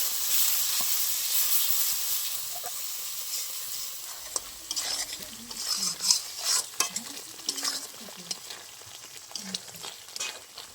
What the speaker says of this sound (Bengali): এবার আমি সব ভালো করে একটু কষিয়ে নেবো মশলাটা